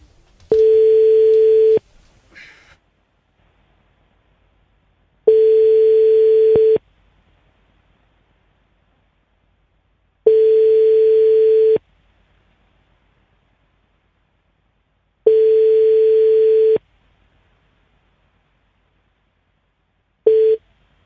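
Telephone ringback tones while calling a correspondent in Glasgow: four long, steady beeps of about 1.5 seconds each, evenly spaced roughly five seconds apart, with a fifth just starting at the end, loud and clear with no talk over them.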